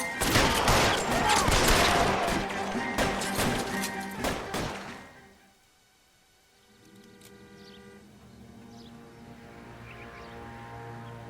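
A gunfight shootout in the LA Noire video game: a loud, rapid fusillade of shots crackles for about five seconds, then breaks off into near silence with faint background game sounds.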